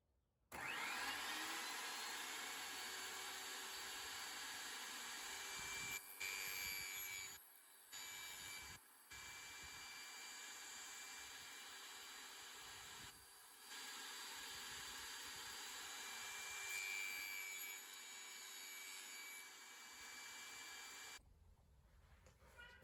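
A power saw cuts wooden pieces for a homemade Lazutin frame, a steady loud whining drone running for about twenty seconds with a few brief dips between cuts before stopping.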